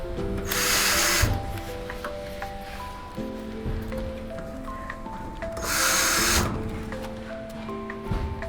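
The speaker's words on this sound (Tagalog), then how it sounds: "may ini-screwan din ako dito sa loob." A power driver runs screws into a steel and glass cabinet during assembly, two loud whirring bursts separated by quieter mechanical clicks and ratcheting, close by.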